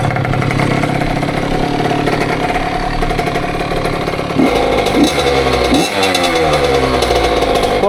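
A Honda CR85 two-stroke dirt bike, freshly rebuilt with Wiseco parts, runs loud and close, its raspy engine idling and then blipping through several sharp revs.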